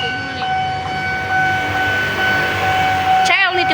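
A train passing the Cakung level crossing, with a steady loud rumble and bright sustained tones like crossing bells or a horn, ending in a sharp wavering whistle-like blare near the end; no speech.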